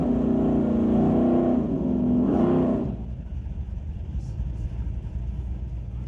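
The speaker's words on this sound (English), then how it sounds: "Racing a little Nova." An S10 pickup and a Nova drag racing at a street-legal night meet at Mission Raceway Park, a loud engine roar with a rising whine that cuts off abruptly, leaving a low rumble.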